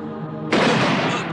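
A sudden loud gunshot burst erupts midway through a battle scene in a 1998 Indonesian TV drama, a dense crackle of gunfire following a quieter stretch and continuing to the end.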